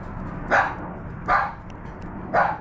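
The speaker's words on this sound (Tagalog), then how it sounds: "Ang mga aso nila, hinahabol na tayo." Farm dogs in San Diego bark three times at a steady, spaced rhythm, moderately distant, over a constant outdoor background hum.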